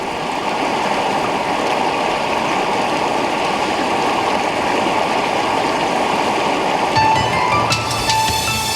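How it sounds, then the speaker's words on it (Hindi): The sacred Ganga flowing at Garhmukteshwar in Uttar Pradesh, a constant close roar of rushing waves. A few faint clicks and tones come in near the end, and no one speaks. "पवित्र गंगा की ये लहरें मोक्षदायिनी कहलाती हैं।"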